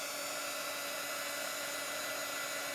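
Hair dryer blowing on chalk-painted leprechaun gnome craft, a steady loud whooshing hiss that runs unbroken and alone.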